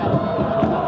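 A large crowd roars and chants steadily at a Thai League football stadium, a loud, continuous wash of many voices close around.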